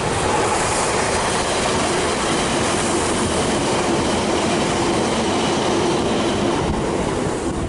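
A train runs along a coastal railway, rumbling steadily along the rails, a dense continuous roar of wheels and carriage noise with faint rhythmic clatter, close and loud throughout.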